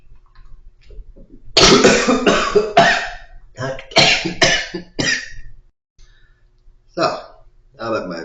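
A person coughs repeatedly in close, loud, harsh bursts, clustered together and then separated by short pauses, with little else around them.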